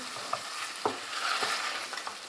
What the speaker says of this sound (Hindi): अब मैं इसको भून रही हूँ।